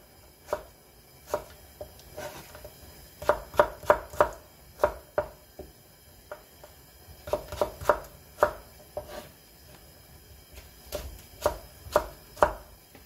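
A knife slices cucumber on a cutting board in irregular bursts of crisp, close taps, some quick runs of several cuts with short pauses between, no talking.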